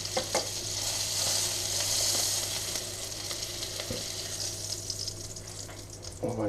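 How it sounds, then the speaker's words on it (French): Duck breast (magret) searing over high heat in a hot pan, a steady broadband sizzle running throughout with a few sharper clicks and a louder burst near the end, no talk. "Je le fais griller de l'autre côté."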